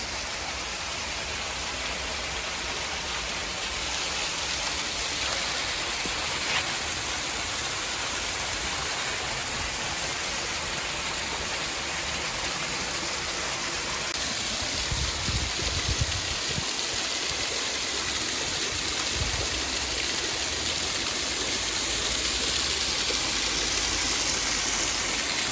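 The Moss Rock waterfall gives a steady, full rush of falling water that stays close and even for the whole stretch, with no talk over it.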